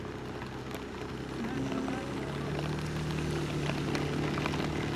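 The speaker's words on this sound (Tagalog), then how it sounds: "Lakas na ulan!" Heavy rain pours during a motorcycle ride, a steady hiss of rainfall mixed with engine and wind rumble that swells slightly after the first second and continues throughout.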